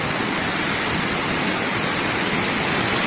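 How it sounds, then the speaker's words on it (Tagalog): Steady, powerful roar of rushing floodwater during a typhoon filling the whole clip, a dense unbroken broadband rush with no pauses, close and loud. "Sobrang lakas ng tubig, katigasin."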